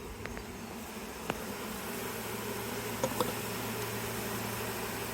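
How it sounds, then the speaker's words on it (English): A steady, droning hum of many honey bees buzzing together nearby as foraging bees climb out and fly around, continuous throughout with a few faint clicks. "all the foraging bees are starting to climb out of it, starting to fly around"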